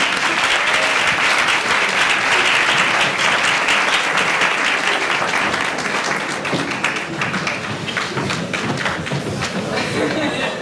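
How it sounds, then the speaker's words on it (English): An audience at a student government candidate debate giving a round of applause, a loud wash of many hands clapping that stays steady, then thins slightly toward the end as individual claps become more distinct. "Another round of applause."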